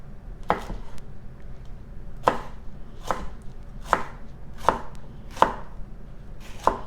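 A jalapeno being chopped with a knife on a cutting board, about eight crisp, evenly spaced knocks, close and distinct over a quiet room.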